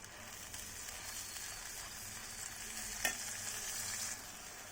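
Homemade coconut and aloe vera hair oil cooking slowly on low heat, a faint continuous gentle sizzle with one brief louder clink partway through, no voices.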